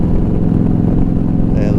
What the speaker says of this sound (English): I like the sound of my bike. I love listening to it.